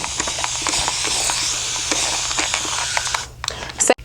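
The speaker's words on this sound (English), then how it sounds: "I'm gonna spray this section first" A close, continuous hiss of an aerosol hairspray being sprayed onto a section of hair runs for about three seconds, then stops, followed by a few brief clicks and handling sounds.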